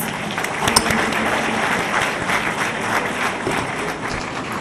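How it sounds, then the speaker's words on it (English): A crowd at a college graduation day ceremony gives the keynote speaker a sustained, dense round of applause that holds at an even, fairly loud level for several seconds. "a thundering round of applause"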